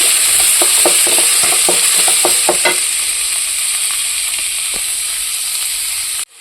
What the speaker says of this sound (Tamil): வெங்காயத்தை போட்டு நல்லா வணக்கலாம்